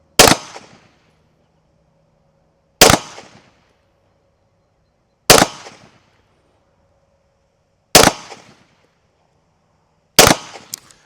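Five loud, sharp pistol shots from a Smith & Wesson M&P 9 Competitor fired at a 15-yard target, evenly spaced about two and a half seconds apart, each cracking close and decaying quickly into near silence.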